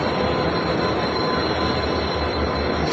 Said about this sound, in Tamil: 7th பிளாட்ஃபார்ம் ட்ரெயின் வந்துருச்சு.